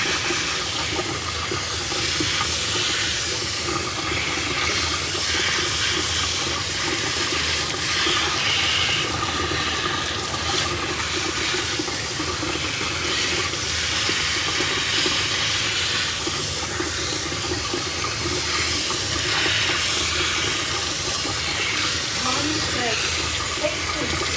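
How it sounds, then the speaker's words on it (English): Water sprays steadily from a hose onto a dog's leg during grooming, making a constant close rushing hiss that runs without a break from start to finish. "I'm going to rinse here, and then rinse down again, and just keep rinsing downward."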